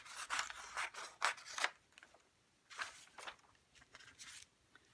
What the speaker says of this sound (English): I'm just going to rough cut this out.